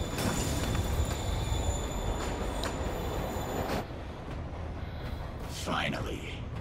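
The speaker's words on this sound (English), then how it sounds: "Train moving." A moving train in the Marvel's Spider-Man video game rumbles loud and steady with a faint metallic whine, the noise easing partway through as game voices speak over it.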